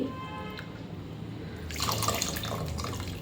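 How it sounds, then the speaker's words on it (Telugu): Tamarind water is poured into a pot of sambar, a soft splash and trickle of liquid that rises in the second half of the brief, quiet moment, alone without talk. "చింతపండు నీళ్ళు కూడా విసికేస్తున్నాను ఇంకా"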